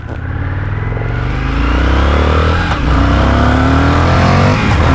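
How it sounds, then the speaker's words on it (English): An Indian FTR 1200 R Carbon limited-edition motorcycle accelerates hard, its engine note climbing through rising revs in one loud, close, continuous pull with a brief dip midway. "Plenty stonk on this motorcycle. Really goes for it."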